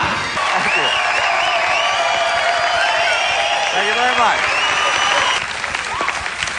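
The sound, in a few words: studio audience applause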